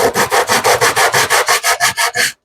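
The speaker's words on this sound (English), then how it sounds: "The sandpaper is fairly aggressive" Aggressive sandpaper rubs against a wooden cigar mold in about a dozen quick, even back-and-forth strokes, loud and close, before stopping abruptly.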